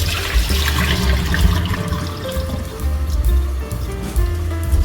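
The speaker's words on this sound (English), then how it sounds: "So I'm going to rinse this, a couple of times just to get rid of the red water" Water splashing and running over raw pork being rinsed in a bowl, a steady gurgling pour with sloshing bursts, close by in a kitchen.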